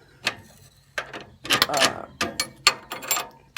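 Nut being screwed onto a tie rod end bolt, a little tight; close, loud metallic ratcheting clicks and scraping in irregular bursts with short pauses.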